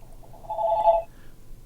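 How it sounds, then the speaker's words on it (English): A phone rings once during a podcast recording, a short clear electronic trill standing out over quiet room tone. "Oh, there's your phone."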